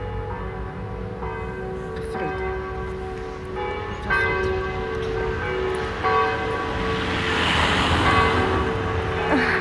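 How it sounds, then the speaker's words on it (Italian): Church bells ring steadily with resonant, overlapping tones in an open outdoor space, while a person speaks briefly. "Queste campane riempiono di gioia."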